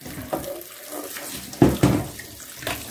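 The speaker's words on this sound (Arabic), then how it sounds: "ابدا بقى ان انا اشطفه في الميه" Tap water runs and splashes over tripe being rinsed in a sink, a steady gushing stream with heavier splashy bursts as it is handled.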